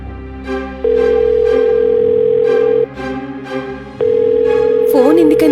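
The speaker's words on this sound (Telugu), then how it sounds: "ఫోన్ ఎందుకని తీయడం లేదు?" A phone call ringing out unanswered, a loud steady electronic ring tone in long repeated bursts with short gaps, heard close over a faint background score.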